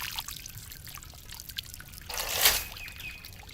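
Liquid pours in a short, splashy burst while a watermelon shake is made at home, a soft trickle swelling briefly and then fading against a quiet background.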